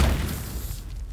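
An explosion in the turn-based tactics game Warhammer 40,000: Chaos Gate - Daemonhunters, a heavy low boom that starts loud and fades into a rumbling tail over about a second.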